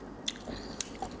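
Tamarind eaten with shrimp paste: a few close, crisp biting crunches spaced over a second, with soft mouth sounds between them and no talk.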